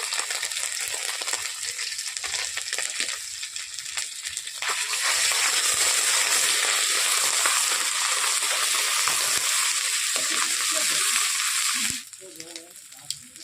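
Black cumin, ginger paste and turmeric powder frying in hot oil, a steady broadband sizzle that swells louder midway and then cuts back sharply near the end, leaving quieter clinks and scraping.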